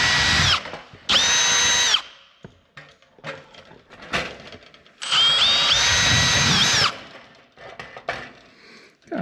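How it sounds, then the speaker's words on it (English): Two loud bursts of a power drill whining up close as it enlarges rivet holes in a Hummingbird 300L helicopter kit, separated by quieter clunks and handling noise, each run lasting about a second or two. "I'm gonna go through and drill them."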